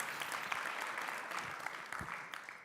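An audience at a policy conversation event applauds steadily, a dense wash of clapping that stays fairly even throughout with no voices over it.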